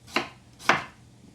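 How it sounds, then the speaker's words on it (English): A knife coarsely chops potatoes on a board, two sharp, close chops about half a second apart, with no talking. "I'm gonna cut up my potatoes. And I'm just gonna coarsely chop them."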